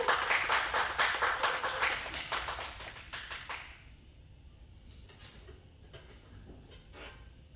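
Applause from a recital audience for a junior exam performer, dense clapping for about four seconds before it thins to a few scattered claps and quiet room tone.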